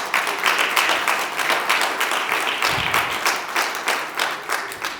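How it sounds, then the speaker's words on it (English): An audience at a family gathering in Las Vegas applauds: dense, sustained clapping from a crowd at close range, holding steady throughout with no talk over it. "So please give yourselves a big round of applause."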